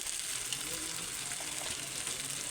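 Mutton pieces frying with coriander powder, red chili powder and salt, giving a steady, close sizzle with faint stirring scrapes throughout and no talking.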